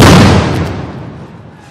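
A police sound grenade goes off during a street clash near a party office in Kakrail, one loud close blast that dies away over about a second and a half.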